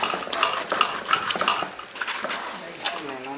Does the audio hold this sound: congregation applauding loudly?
no